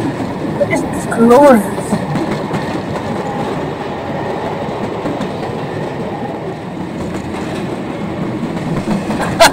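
A Ffestiniog Railway gravity train coasts downhill with a loud, continuous rumble and clatter of wheels on rails and a brief squeal of wheels near the start. A voice speaks briefly over the noise.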